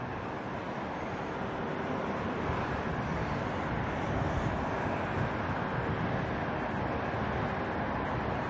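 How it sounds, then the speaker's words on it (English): ATR turboprop airliner arriving at Auckland Airport from Palmerston North after sunset, a steady broad engine roar heard from a distance that swells slightly and holds throughout, with no talking. "Next arrival from another university town, this ATR coming in from Palmerston North."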